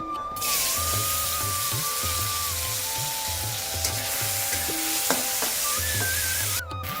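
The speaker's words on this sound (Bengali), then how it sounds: "মাথা ভাজার তেলের মধ্যেই আমি ছোট ছোট কেটে রাখা আলু দিয়ে দেবো" Steady sizzling of small diced potatoes frying in hot oil left from frying fish heads, with occasional stirring scrapes and clinks close by; no talking.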